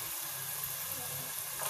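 Chopped onions and potatoes sizzle steadily in hot oil as they are stirred, a continuous close frying hiss over low kitchen rumble.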